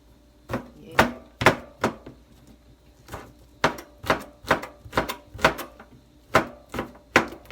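A knife chops garlic on a board for fried rice, giving a series of sharp, close knocks in an uneven rhythm with a short pause partway through.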